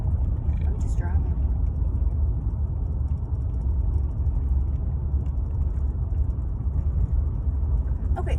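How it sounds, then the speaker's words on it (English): A car cruises along a scenic highway, giving a steady low road and engine rumble from inside the cabin, with no break throughout. "I'm just driving."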